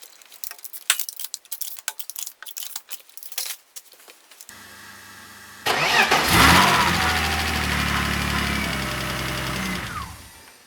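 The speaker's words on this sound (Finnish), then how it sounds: "Jees, sehän tärähti käyntiin kuin panmun alta, vaikka tankissa oli vielä pari vuotta vanhat E85." A BMW E30 with a turbocharged M52 engine, running on old E85 fuel, cranks with clicks and clatter, then fires and settles into a loud, steady, rumbling run that fills the rest of the moment, with no talking.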